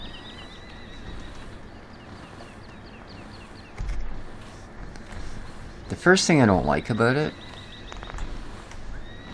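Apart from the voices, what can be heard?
horses neighing in a looping audio track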